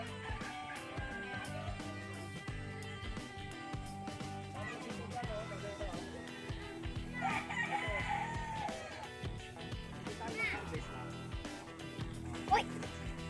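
Chickens cluck and a rooster crows in a rural yard, with ducklike calls mixed in over a busy outdoor background while people talk.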